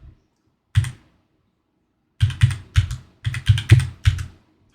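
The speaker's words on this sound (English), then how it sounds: "Hit the arrow key on my keyboard." A computer keyboard clicks, one key press alone, then a quick burst of six or seven sharp taps, close and clear in a quiet room.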